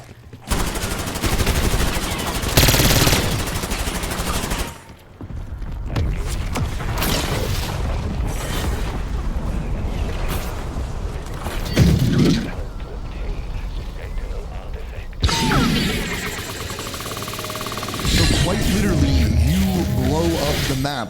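Gunfire in Black Ops 6 Zombies as a player keeps shooting the nuke on a new map, loud sustained automatic bursts and booms with brief pauses, mixed with game effects and a voice talking over parts of it.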